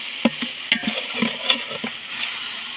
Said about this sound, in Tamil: இதை நல்லா சேர்ற மாதிரி கிண்டி விட்டுக்குவோம்.